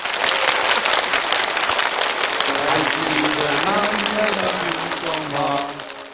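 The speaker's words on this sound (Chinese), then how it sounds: "来，我们掌声有请" Applause rises from a large audience at a televised Spring Festival Gala competition finals, a dense, steady patter of clapping that fills the hall as performers are welcomed, with musical tones emerging underneath toward the end.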